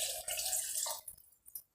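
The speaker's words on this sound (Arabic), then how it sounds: "كنضيف له الماء حتى كيتغطى." Water poured over brined olives in a container to cover them, a brief splashing pour that stops abruptly, followed by a few faint drips and small splashes.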